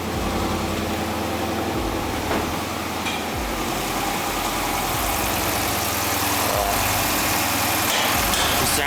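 A 6.4 HEMI SRT8 V8 idles close by with a slight misfire and recently fixed lifters. A steady, dense engine rumble runs throughout with faint irregular stumbles.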